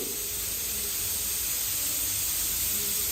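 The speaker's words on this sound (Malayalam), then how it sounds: "ഞാനിതാ കുക്കർ അടച്ചു വെച്ച് കൊടുത്തിട്ടുണ്ട് ഹൈ ഫ്ലെയിമിലിട്ടിട്ടാണ് കേട്ടോ ഒരൊറ്റ വിസിൽ മതി" A closed pressure cooker of ghee rice on a high gas flame lets out a steady, loud, unbroken hiss of steam, with no voices over it.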